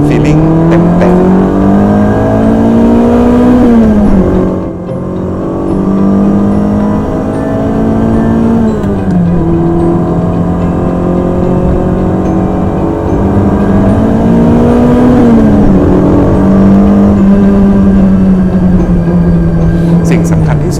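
A Ferrari 308 GTB engine pulling through the gears on Bangkok streets, heard from inside the car as a loud, steady revving drone that climbs and drops with repeated shifts, with a voice talking now and then underneath.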